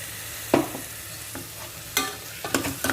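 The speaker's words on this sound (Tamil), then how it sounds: "மிளகு சோம்பு இஞ்சி பூண்டு பேஸ்ட்டு அதையும் போட்டு" Pepper, fennel and ginger garlic paste sautéed for a duck gravy, a steady sizzle broken by a few sharp scraping stir strokes close up.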